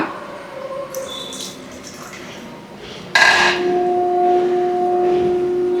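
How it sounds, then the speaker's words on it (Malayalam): Water is poured into a simmering pineapple theeyal curry, a sudden splashing gush that settles into a steady filling trickle with a faint ringing tone, following quieter kitchen clatter. "കുറച്ച് വെള്ളം കൂടെ നമുക്ക് ചേർത്ത് കൊടുക്കാം."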